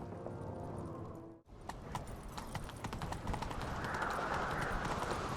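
Rapid hoofbeats of a galloping horse in the video game The Witcher 3: Wild Hunt, a steady clip-clop rhythm that grows louder and busier, with a faint voice in the background.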